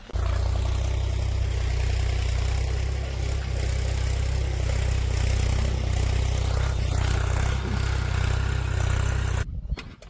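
Tractor pulling a rotavator through a field during monsoon-season farm work, a continuous heavy low engine drone with a churning mechanical roar, loud and steady until it cuts off just before the end.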